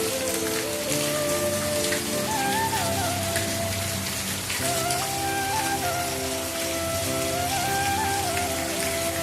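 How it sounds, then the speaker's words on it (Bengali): Heavy rain pours outside, a loud, steady, close patter of drops on surfaces that goes on without a pause, with faint tonal sounds in the background. "আর বৃষ্টি পড়ছে কি হারে, দেখতেই পারছো বাইরে।"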